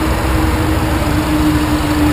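A 2012 Mercedes-Benz C250's supercharged four-cylinder engine idles steadily with the hood open, a loud, even hum and whirr with a constant tonal whine, close up and without talk.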